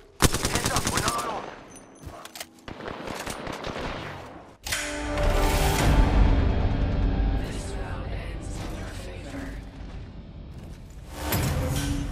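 Video game gunfire in Apex Legends: rapid automatic bursts crackle loudly, then a heavy boom and sustained rattling fire follow, with in-game voices calling out over the shooting.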